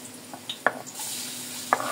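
Garlic sautés in a pan for chicken afritada, giving a soft, steady sizzle broken by a few sharp clinks of a utensil stirring.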